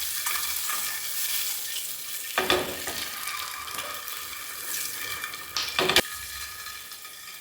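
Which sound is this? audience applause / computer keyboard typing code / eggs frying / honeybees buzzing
eggs frying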